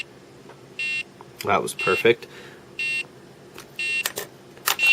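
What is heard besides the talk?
Nintendo Game & Watch alarm beeping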